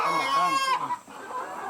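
Laying hens in a chicken coop cluck and squawk loudly up close, a burst of several calls that cuts off abruptly, leaving quieter barn murmur behind.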